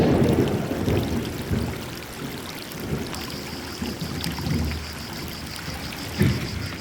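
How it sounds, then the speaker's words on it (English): Rain falls steadily in the green hills of Madeira, a dense, continuous hiss of drops with occasional heavier spatters and low rumbling swells. "In Funchal it's sunny and here it's rainy and rainy and rainy."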